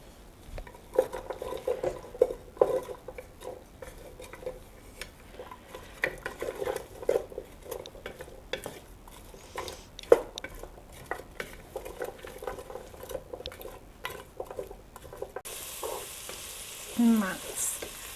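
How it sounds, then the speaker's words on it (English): Celery and carrots saute in a soup pot with a soft continuous sizzle, broken by repeated scraping stirs and clinks of a utensil against the pot, fairly quiet and close. "I'm going to put in my celery and my carrots, and I'm going to saute this for about 4 minutes."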